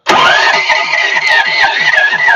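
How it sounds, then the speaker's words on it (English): A small air compressor engine cranks and catches, then runs at a steady, loud chug with rhythmic pulses for a couple of seconds, close by. "I gotta crank the compressor up."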